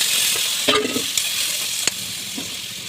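Oil sizzles with a steady hiss in a frying pan with potatoes while a utensil stirs and scrapes the pan in a few sharp strokes.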